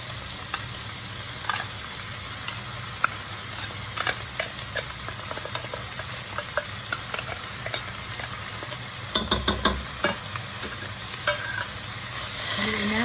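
Tuna pasta, made with two cans of tuna and half a kilo of pasta, sizzles steadily in a pan while a utensil stirs it with scattered scrapes and knocks, including a brief cluster of louder clatters, with no talking.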